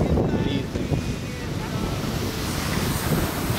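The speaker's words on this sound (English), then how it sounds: "And now we're here at the beach, right next to the Airbnb we rented out." Wind buffets the microphone on a beach in Destin, Florida, with steady surf washing in beneath it as a continuous, fairly loud rush with no clear breaks.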